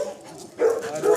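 A small puppy gives a couple of short, close yips and whimpers, each brief and fairly loud against a quiet background.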